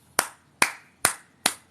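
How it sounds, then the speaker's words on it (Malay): An audience at a Malaysian political event claps in four sharp, evenly spaced hand claps, close and crisp with quick decay, with no voices over them. "Tepuk tangan."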